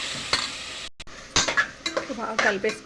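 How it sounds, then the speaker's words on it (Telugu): Cooked boti (tripe) being stirred into a curry in a pot, with a spoon scraping and clinking against the metal in short irregular bursts over a light sizzle, near and moderately loud. "బోటి వేసేసుకొని బాగా కలిపేసుకున్నాం."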